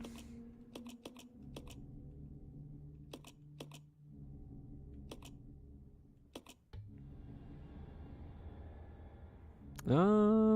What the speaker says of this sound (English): Why do I keep clicking buttons?